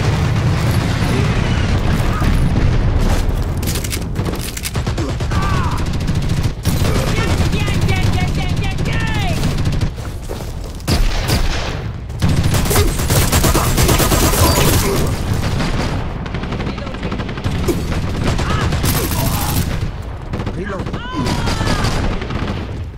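Dense battle noise from the video game Dirty Bomb: artillery fire support booms mixed with rapid gunfire bursts, loud and continuous throughout, with talk occasionally heard beneath the blasts.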